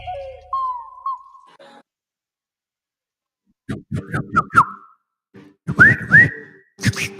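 A person whistles a short, clear melodic phrase up close, followed after a pause by bursts of nearby conversational talking.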